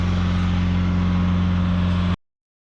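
An Eagle Talon engine runs after being jump-started from a Corvette, a steady close idling drone with a low throbbing hum that continues evenly and then cuts off abruptly.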